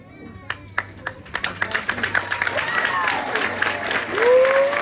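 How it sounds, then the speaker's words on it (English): Military ceremony audience applauding veterans: a few scattered claps grow into fuller clapping from the crowd, with a voice and other sounds rising over it toward the end. "please join us in a round of applause for these veterans"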